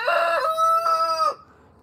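Chickens on a sunny Florida property crow and cluck loudly and close by in one bright, strained call with a brief break, cutting off sharply to near silence after about a second and a half.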